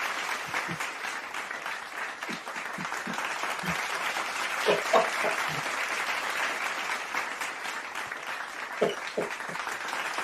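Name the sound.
audience applause for a comedian's introduction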